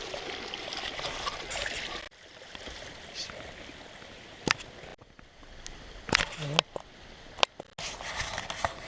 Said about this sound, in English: We'll be following streams the rest of the way down now.